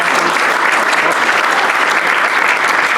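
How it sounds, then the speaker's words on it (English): Steady, loud applause fills the room at a Rotary Club meeting, a dense and continuous wash of many hands clapping without a break. "Give a round of applause."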